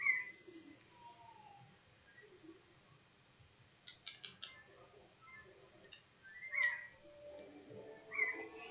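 Seagull calls in the video game Zelda: The Wind Waker, a few faint, brief cries spread out over soft background game music and ticking, with no talking.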